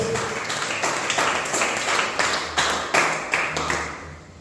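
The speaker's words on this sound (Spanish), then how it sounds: "Dale un aplauso al Señor." A church congregation claps for the Lord after a prayer, a loose rhythmic patter of hands with regular beats and a slight room echo, moderately loud.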